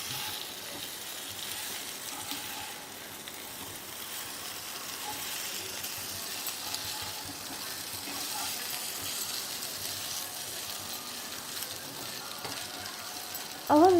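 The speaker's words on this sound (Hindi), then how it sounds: "अब हम इसको धीमी धीमी गैस पर फ्राई करेंगे।" Dal ke fare, steamed lentil-stuffed dumplings, fry slowly over a low gas flame, giving a steady, soft broadband sizzle that holds even throughout, with a brief louder knock at the very end.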